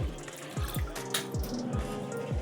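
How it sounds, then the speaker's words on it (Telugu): Water is poured into pounded jaggery with a little pepper to make panakam. A series of about seven hollow plops and glugs lands at a steady rhythm, each close and fairly loud. "నీళ్ళు పోసేద్దాం."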